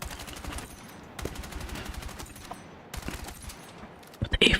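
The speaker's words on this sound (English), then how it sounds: "What's an assault rifle? What is this? Wow, its recoil is crazy." An assault rifle fires in a video game, rapid automatic bursts rattling in close succession, broken by short pauses, with a louder final burst at the end.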